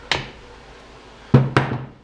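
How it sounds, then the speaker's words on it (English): Hammer taps on the flywheel key of a 2004 KTM 125SX motorcycle engine during a bottom-end rebuild: one light metallic tap, then after a pause two sharper close knocks in quick succession. "You're going to tuck it right in here. And just to make it go all the way in, kind of tap it with a hammer."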